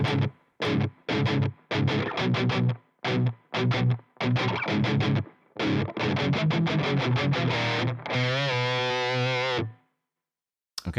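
Distorted electric guitar plays the chorus of a song in standard tuning, loud chugging bursts separated by short gaps, ending in a sustained ringing chord.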